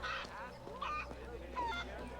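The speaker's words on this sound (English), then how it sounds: "I shall chase a chicken." A chicken in Assassin's Creed 3: Liberation gives several quick, honking clucks close by, short squawks spread over a couple of seconds against quiet game background.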